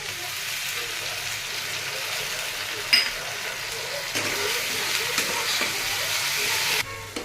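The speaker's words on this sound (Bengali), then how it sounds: "দেখো আদা রসুনগুলো ভাজা হয়ে গেছে" Onion and ginger-garlic paste sizzle steadily in a hot pan, with occasional sharp clinks and scraping stirs over the constant frying hiss.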